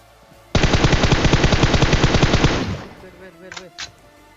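Automatic gunfire rips out in a fast, loud, sustained burst for about two seconds in the mobile battle-royale game PUBG Mobile, then cuts off, followed by a few fainter game sounds and two short sharp clicks.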